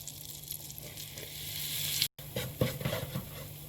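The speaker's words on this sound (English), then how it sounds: "Now I've taken a pan, I'm going to add the butter." Butter melting in a pan gives off a soft, steady sizzle and light crackle, quiet and close, broken by a brief gap before the pattering hiss resumes a little livelier.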